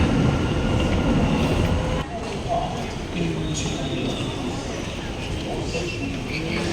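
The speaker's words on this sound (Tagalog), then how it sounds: "Sakay pala ako sa train." Inside a train running from KL Central to the airport in Kuala Lumpur: a steady, loud rumble of the rail car with rattling and clatter, plus faint voices and station-like background noise throughout.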